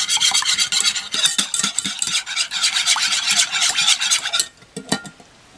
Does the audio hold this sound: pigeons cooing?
no